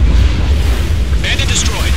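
Enemy aircraft exploding in a combat flight video game, a loud rumbling blast in wind-like roar with brief tonal warning beeps after it.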